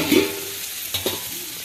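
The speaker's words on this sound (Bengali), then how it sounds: "ঝিঙে দিয়ে, পেঁয়াজ দিয়ে, কালো জিরে ফোড়ন দিয়ে আমি ঝিঙেটা ভাজি" Ridge gourd fries in a pan with onion and black cumin, giving a brief, soft, steady sizzle broken by a couple of quick stirring scrapes.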